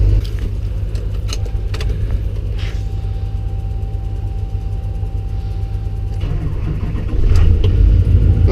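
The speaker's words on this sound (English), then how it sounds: "We're going to go ahead and try to start the Duramax too." Duramax diesel truck engine cranking and firing up on a cold morning after a snowstorm in Louisiana, a steady mechanical churn with a faint tonal whine, then a louder, deeper rumble as it catches near the end.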